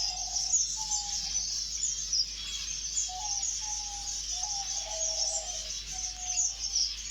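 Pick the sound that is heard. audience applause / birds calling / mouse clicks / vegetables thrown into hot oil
birds calling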